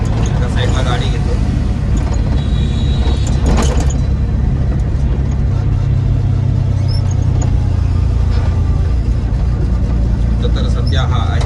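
A tempo pulling over to the roadside: its engine rumbles steadily throughout with constant road noise, loud and close, while someone talks over it.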